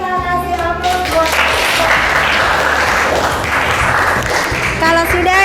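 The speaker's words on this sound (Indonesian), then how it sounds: "Kalau sudah kita kasih aplaus buat kelompok 5" Steady applause from a classroom audience for group 5 after a biology presentation, dense continuous clapping throughout, with a voice talking over it at the start and end.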